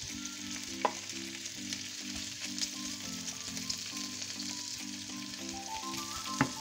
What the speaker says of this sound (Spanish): Ya tenemos el aceite caliente, así que añadimos los langostinos.